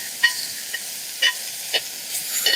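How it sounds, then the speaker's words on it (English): Bacon, diced onion and two small potatoes cook in a small cast iron Dutch oven, giving a soft, steady sizzle broken by a few brief stirring scrapes and clinks. "we're going to let that bacon sizzle"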